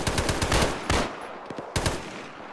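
Rapid bursts of gunfire from a military shooter video game at night, close and loud, with several sustained volleys broken by brief pauses and sharp single reports, no talk over it.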